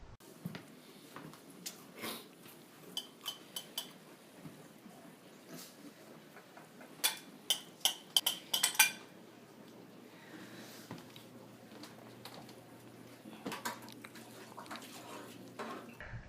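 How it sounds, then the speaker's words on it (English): A 13-month-old toddler eats cream of wheat with a spoon in one hand, producing scattered spoon-on-dish clinks and taps, some in quick clusters, over a quiet room with faint background hum. "I have a video clip of her eating cream of wheat"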